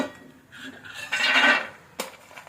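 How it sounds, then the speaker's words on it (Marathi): Roasted almonds scooped out of a pan after frying in ghee on low heat for sweet ladoos: a close metallic scrape of a spoon against the pan, then a short sharp clink. "मी बारीक आचेवर बदाम परतून घेतले आता ते काढून घेते"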